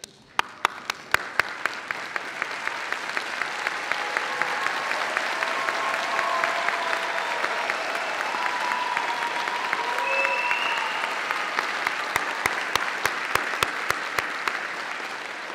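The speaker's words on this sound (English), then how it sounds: "join me in giving them all a well-deserved round of applause" Sustained audience applause fills a graduation ceremony hall at Birmingham City University, a dense steady wash of clapping from a large crowd, with a few sharper claps near the start and end.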